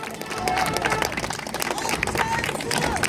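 Crowd at an Ahn Cheol-soo election campaign rally in Cheongju applauding, with dense clapping mixed with cheering and crowd babble, loud and continuous in an open outdoor space.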